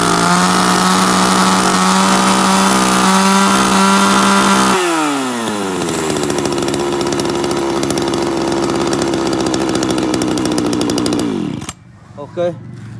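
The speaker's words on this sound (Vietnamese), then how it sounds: "Test nổ tiếng máy này." A Japanese chainsaw engine is test-started and runs loud and close, first at a steady high idle, then dropping to a lower, rougher pitch before cutting off abruptly near the end.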